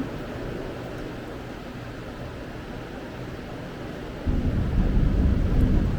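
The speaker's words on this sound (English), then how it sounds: "The thunder's loud for you," Thunder rumbles through a Florida storm: a steady wash of wind-like noise, then a deeper, louder rumble swells in near the end and holds. No one speaks.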